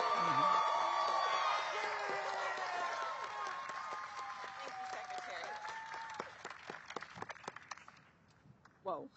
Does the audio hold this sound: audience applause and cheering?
yes